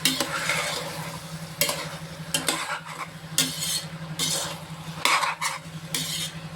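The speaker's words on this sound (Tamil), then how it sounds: "இது நல்லா வதங்கட்டும். காய் எல்லா காயும் வந்து நல்லா வதங்கி வருது." Vegetables for a vegetable biryani sautéing in a pot, with intermittent clinks and scrapes of a stirring utensil over a low, steady sizzle; no voices.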